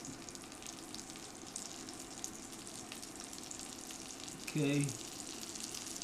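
Food sizzling steadily as it reheats in a pan on an induction burner, a soft continuous frying hiss with a brief tonal beep near the end and a short word spoken.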